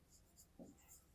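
Handwriting during a maths lesson on sets, a pen or marker scratching out short strokes, quiet and close, with a brief low murmur partway through.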